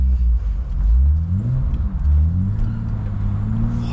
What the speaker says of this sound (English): Do make a good noise, these engines, don't they?